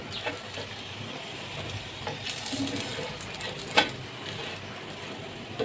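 A multilayer lachha paratha made from wheat dough cooks on a pan while being pressed down, giving a soft, steady sizzle with a few light clinks and scrapes, quiet and close, with no voices.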